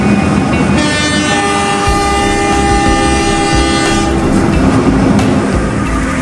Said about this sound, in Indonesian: Kereta api Serayu Pagi bersilang dengan kereta api Pasundan di stasiun Tasikmalaya.